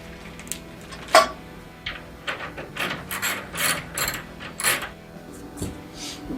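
Bolts being tightened on the legs of a pinball machine, heard as close ratcheting and grinding turns in short bursts, with a sharp knock near the start and no talking.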